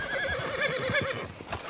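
A horse in the video game Red Dead Redemption 2 whinnies loudly with a wavering, rising neigh, then a few soft hoof clops follow near the end.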